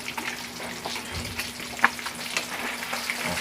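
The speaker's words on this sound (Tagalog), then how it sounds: "Oh, tilamsik yung mantika." Steady sizzling and crackling of tilapia frying in hot oil, with occasional sharper pops and spatters, close up and continuous.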